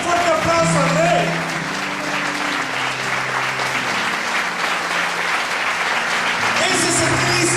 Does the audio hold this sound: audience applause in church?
yes